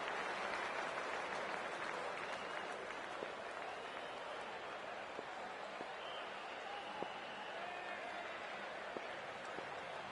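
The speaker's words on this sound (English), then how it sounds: "We're about to get underway and already the crowd is up and about" A cricket stadium crowd roars steadily before the opening ball, a dense, continuous wash of cheering and clapping with faint scattered whistles.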